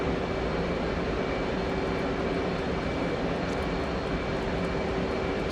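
An F/A-18C jet engine in DCS World roars as a steady, loud, broadband drone with a constant whine and no clear change in pitch.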